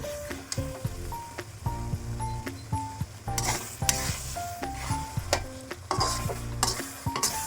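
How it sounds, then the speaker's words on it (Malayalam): Carrot halwa being stirred in a pan as it thickens, with repeated scraping and clinking of a spoon against metal over a soft sizzle, while background music plays. "ഇനി ഇത് പാത്രത്തിൽ നിന്ന് വിട്ടുവരുന്നത് വരുന്നത് വരെ നമുക്ക് ഇളക്കി കൊടുക്കാം"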